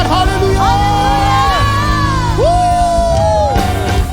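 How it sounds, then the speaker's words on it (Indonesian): A church congregation at a worship service claps and cheers loudly and continuously, with whoops and shouts rising over a steady, dense crowd roar and music. "Tepuk tangan sorak-sorai bagi Raja."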